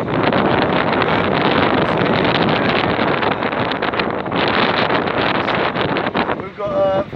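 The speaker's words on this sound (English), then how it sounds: "The wind's got to be a good 15. It's definitely more than that." Strong wind buffets the microphone aboard a sailboat heading toward the Isle of Wight in foggy conditions, a loud continuous rushing roar with gusty surges, and a voice briefly speaks near the end.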